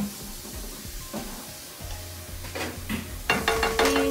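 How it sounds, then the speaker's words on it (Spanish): Shrimp dropped into a pot of boiling water and stirred: steady bubbling hiss, with clinks and scrapes of a utensil against the pot growing busier toward the end. "Ya está hirviendo. Vamos entonces a echar los camarones."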